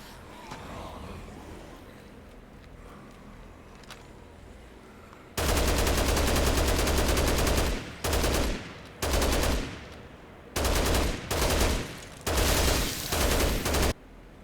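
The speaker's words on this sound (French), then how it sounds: "Ma grosse mitrailleuse lourde." A heavy machine gun fires in Dead Rising Deluxe Remaster, loud sustained bursts of rapid gunfire separated by short pauses, following a quieter ambient stretch.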